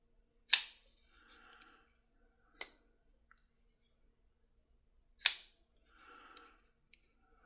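A Bestech Beluga small folding knife with its detent filed down snaps shut: three sharp, close clicks spaced a couple of seconds apart, with faint handling rustle between them in an otherwise quiet room.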